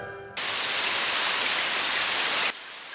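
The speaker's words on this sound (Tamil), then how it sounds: "இந்த மழை ஓயிற மாதிரியே தெரியலையே" Steady rain pours down hard, a dense even hiss filling the scene from start to nearly the end, when it drops abruptly to a quieter patter.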